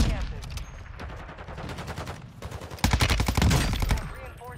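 Battle rifle fire in Warzone 2 comes in bursts of rapid, sharp, loud shots, with a short pause midway and then a heavier sustained volley, while a voice talks over the gunfire.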